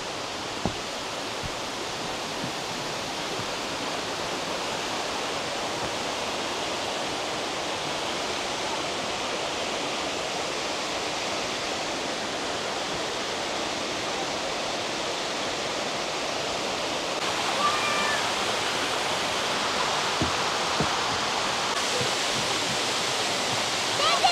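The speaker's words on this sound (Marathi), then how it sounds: "आणि तुम्हाला दाखवते मी वरून वाहणारा वॉटरफॉल." Waterfall at Nixenfall in Austria's Salzkammergut pouring down from above, a loud, dense and unbroken roar of falling water that grows slightly fuller toward the end.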